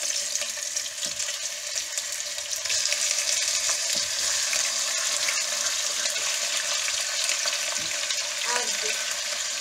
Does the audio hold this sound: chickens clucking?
no